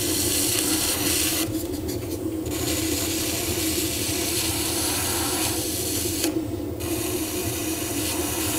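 Clay pot being trimmed on a spinning pottery wheel, a steady close scraping rasp throughout, with the tool lifting off briefly twice, leaving a duller rumble.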